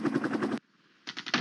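Rapid automatic cannon fire bursts from attack helicopters diving on a town held by Soviet forces in the Flashpoint Campaigns wargame, loud and dense, breaking off for a short half-second gap before resuming.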